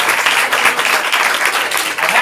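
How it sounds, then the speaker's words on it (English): A comedy show audience breaks into steady, dense applause, loud and sustained throughout with no break. "A round of applause."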